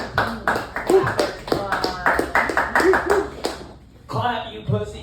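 A comedy show audience claps in a dense burst of hand claps while someone speaks over it; the clapping thins out near the end as his voice continues.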